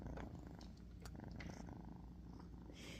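A male kitten from a mama cat's litter purring close up, a steady low continuous rumble with soft rhythmic pulses and no talking.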